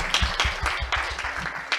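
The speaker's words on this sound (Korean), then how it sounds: "뜨거운 박수 부탁드립니다." Audience applause at a Korean civic vision ceremony, a run of close, uneven claps from a modest crowd that carries on steadily.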